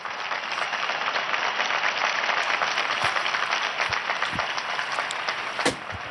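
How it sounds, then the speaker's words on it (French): Steady, sustained applause from a large crowd, dense and even throughout, heard from some distance. "Et on l'applaudit très fort."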